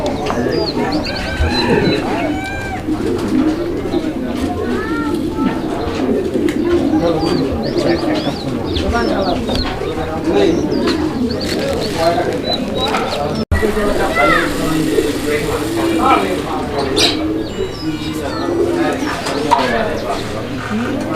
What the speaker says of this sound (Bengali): টয় লাহোরি সিঙ্গেল একটা নর ও ডাকতেছে